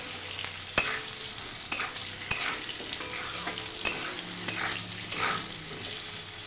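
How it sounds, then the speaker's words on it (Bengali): Bitter gourd and potatoes frying in a pan, a soft steady sizzle broken by a few sharp spatula clicks and stirring scrapes, fairly quiet and close. "উচ্ছে আলু ভালো করে ভেজে নিয়েছি।"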